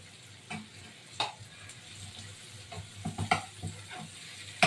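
Stuffed brinjals frying in a pan over low gas, with intermittent soft sizzling and a few scraping stirs of a spoon, faint and close.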